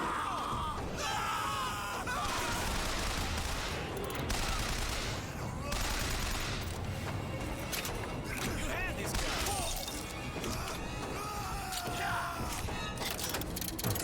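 Turret gunfire in Bioshock Infinite rattles in dense, continuous bursts over fourteen seconds, mixed with game chaos, cries and scattered impacts, with players talking throughout.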